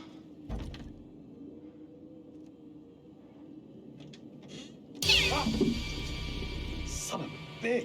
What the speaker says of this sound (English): Yeah, just a stupid cat.